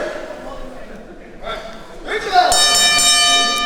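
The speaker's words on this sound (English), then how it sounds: "the bell has rung" Wrestling match bell rung at the start of a bout, bright metallic clangs with a lingering ring near the end, over a commentator talking and crowd noise.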